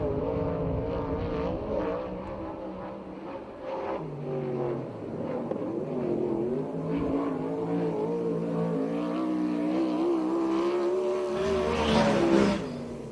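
A 410 sprint car runs a qualifying lap at Perris, California in a USAC/CRA sprint car race. Its engine roars loud and continuous, and the pitch rises and falls as it laps the oval.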